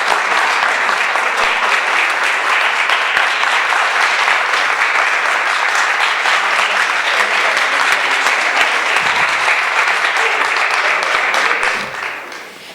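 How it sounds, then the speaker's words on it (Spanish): Loud, sustained applause from a film festival audience welcoming actor Edgar Ramírez to a talk, steady and dense for about twelve seconds before tapering off at the end. "Edgar Ramírez, a quien por favor le pido un fuerte aplauso."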